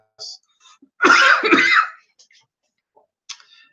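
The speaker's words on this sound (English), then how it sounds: "I'm coughing on camera" A burst of harsh coughing near the mic lasts about a second, with faint small noises before and after in an otherwise quiet room.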